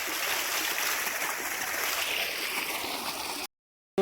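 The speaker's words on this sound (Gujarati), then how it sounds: "અસલ બોરનું ગરમ ગરમ પાણી આવે છે." Hot water from a farm borewell gushes steadily in a continuous, loud splashing rush, like a stream pouring out, before cutting off abruptly near the end.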